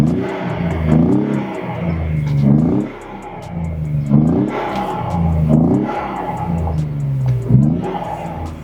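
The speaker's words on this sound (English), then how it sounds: "First, the exhaust sound." A Ford Explorer ST accelerates with a growling exhaust that rises in repeated surges and drops back between shifts, loud and close, roaring almost throughout.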